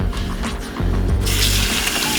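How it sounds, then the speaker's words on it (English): Tap water runs while dishes are rinsed in a kitchen sink by hand, making a steady rushing hiss with clinks and bumps of crockery, close by and without talk. "Then you're gonna rinse them off"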